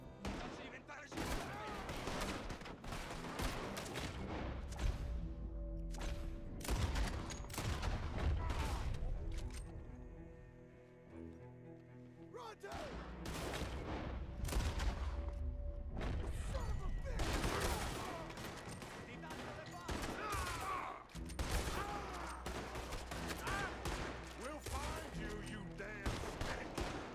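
Gunfire in the Red Dead Redemption 2 video game, with dense volleys of rifle and pistol shots and booming reports. The shooting comes in two long sustained stretches broken by a brief lull, with voices heard in the mix.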